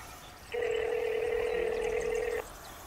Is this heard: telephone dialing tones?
yes